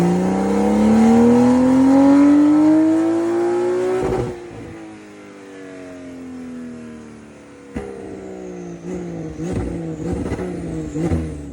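Modified 2025 Porsche 911 992.2 with a manual gearbox and an upgraded exhaust making about 480 brake horsepower, heard from inside: the engine revs hard and climbs, drops off at a gear change, pulls again, then blips and rises as the car accelerates.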